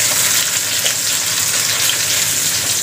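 Garlic and onion sauté in hot oil as the base for chicken feet adobo, a loud, close, continuous sizzle that holds steady throughout with no talking.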